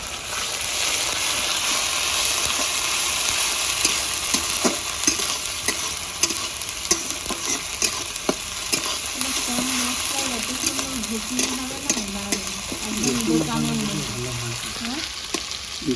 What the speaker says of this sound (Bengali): পেঁয়াজ ভাজা হয়ে গেছে। এবার দেবো আমি আদা রসুনের পেস্ট,